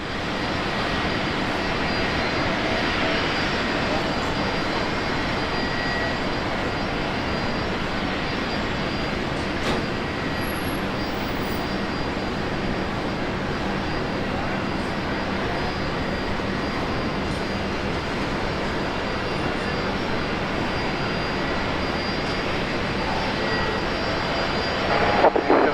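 A passenger airplane takes off at Brisbane Airport, its engine roar building into a loud, steady, broadband rush that persists for the whole stretch, with faint radio talk underneath.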